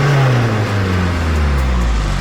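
A Holden Rodeo with a front-mount intercooler and custom intake plenum runs loud and close, its engine note sliding steadily as it revs and settles after starting.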